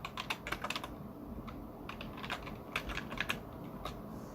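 Someone types a password on a computer keyboard: a close, quiet run of irregular key clicks in small clusters with brief pauses between them.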